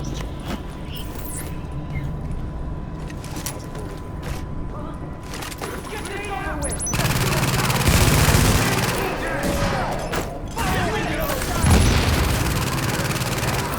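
Gunfire in The Division rattles in bursts amid mechanical clanks and booms, growing louder and denser partway through, with a player talking over it at times.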